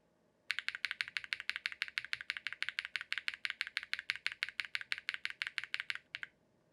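Rapid, evenly paced typing on a mechanical keyboard fitted with PBT keycaps and Durock POM switches, a green Mr. Suit TKL build, close and crisp, roughly thirty clacks in a steady run, with no speech.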